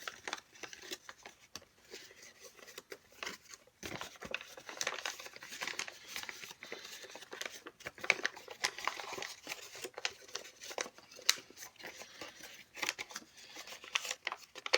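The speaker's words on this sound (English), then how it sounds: "Let me quickly speed fold this off screen." Origami paper being quickly speed-folded and collapsed into a FNAF Foxy model: steady crinkling, creasing and rustling of paper, close and soft, with sharper snaps here and there and no talking.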